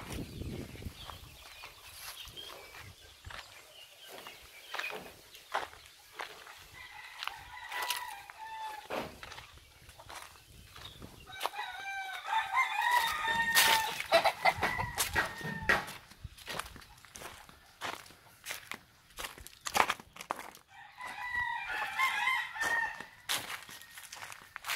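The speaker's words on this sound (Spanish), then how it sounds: "Son los gallos que están emplumando." Roosters crow repeatedly and fowl cluck in a farmyard where young birds are feathering out. The crows come in clear bursts over quiet gaps, and footsteps and faint background sounds are also heard.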